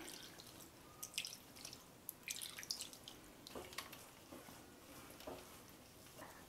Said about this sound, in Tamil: கொஞ்சம் கொஞ்சமாக தண்ணி சேர்த்துக்குங்க